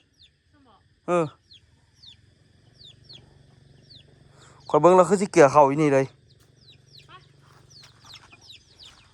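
Chickens cluck in short bursts close by, with a person speaking over them partway through and small bird calls in the background.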